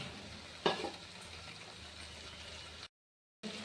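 Chopped banana flower sautéing in a pan with salt, a quiet steady sizzle with one brief scrape of a stirring spoon near the start, cut by a short gap of silence.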